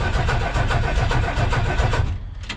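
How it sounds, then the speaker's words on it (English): An old 1979 Ford F150 truck engine cranks over with a rhythmic, chugging starter cycle and rough running for about two seconds, close and fairly loud, then cuts out into a brief faint noise. "if you give it a little bit of starting fluid, it'll crank over and then it runs"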